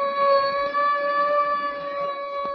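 An ambulance siren sound effect in a 1941 Red Skelton radio comedy show holds a steady, bright, fairly loud tone for the whole short stretch, with no talk over it.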